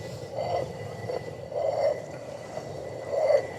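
Stone grinding against stone as a rotary quern grinds grain: a slow, repeating rasp, each pass swelling and fading in a steady circular rhythm, fairly quiet and close.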